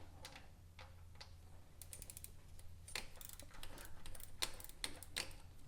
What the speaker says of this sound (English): And I'm just using a 10 millimeter with a ratchet to get these off.